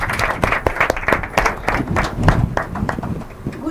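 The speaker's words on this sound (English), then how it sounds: "let's make a warm welcome with a warm round of applause" Loud, close applause from an audience at an inter-collegiate debate competition, dense irregular clapping that carries on steadily throughout.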